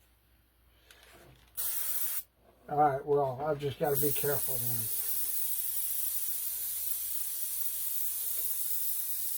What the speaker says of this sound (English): So I'm not spraying the entire thing black.